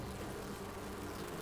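Bees buzzing around a beehive in the game Enshrouded, a steady, dense, faint hum that continues without a break, with no talk over it.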